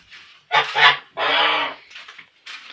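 Domestic geese on a farm honk loudly at close range, giving several harsh calls of varying length with short pauses between them.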